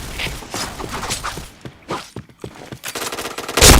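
Rapid gunfire in a first-person shooter game, with quick bursts and single sharp shots in an uneven rhythm, loud and close, ending in a heavier burst.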